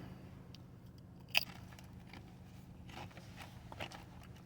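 A single sharp crunch of biting into a crunchy Takis Kettlez jalapeño or habanero kettle chip, close to the mic and brief, followed by quieter faint chewing.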